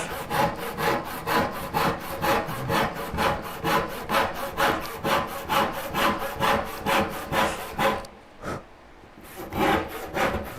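A hand saw rips through wood in steady rhythmic strokes, about two per second, close and loud, pausing briefly near the end before a few more strokes resume.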